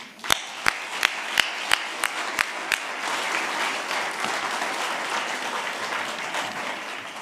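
An audience claps in a hall as Ruben Vardanian walks on stage, opening with a few sharp, evenly spaced claps that swell into steady, continuous applause.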